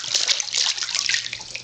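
A child splashes water in a bath, making a continuous, loud, close-up rush of splashing and dribbling.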